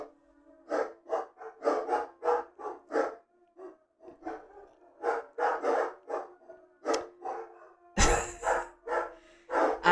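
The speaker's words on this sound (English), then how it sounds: "I don't even know why they're howling." Several dogs bark and howl in rapid, uneven bursts close by, with short gaps between calls and one sharp knock partway through.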